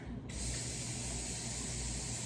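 Water pours steadily into a pot in a continuous rushing hiss that starts abruptly and holds an even level throughout.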